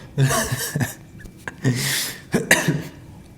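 A person coughs several times in short bursts, with some throat clearing and breathy gasps between them, close by.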